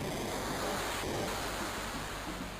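A constant wash of rushing water fills a scene in Final Fantasy VII, a loud, even roar with no breaks or distinct splashes.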